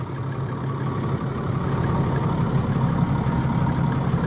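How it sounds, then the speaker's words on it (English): Steady low rumble of a 330 hp Caterpillar diesel idling in a 2002 National Tradewinds motorhome, heard from inside the coach, even and moderately loud with no voices. "we're sitting on top of that big 330 horse Caterpillar diesel right now, folks, and it sounds great"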